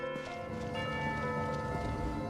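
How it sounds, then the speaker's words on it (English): Bell ringing in Genshin Impact, sustained tonal chimes with steady ringing partials over a dense game soundscape, continuous and fairly loud throughout. "You hear the sound of a bell."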